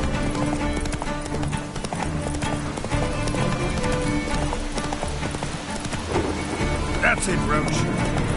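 Roach, the horse in The Witcher 3: Wild Hunt, gallops with a fast, steady drumming of hoofbeats that carries through the whole stretch, set against a dense game soundscape, with a voice briefly heard over it.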